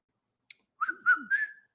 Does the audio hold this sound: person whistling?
yes